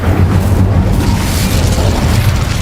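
An Incendio fire spell erupts in Hogwarts Legacy as a loud, continuous roaring boom with deep rumbling, steady throughout and without voices.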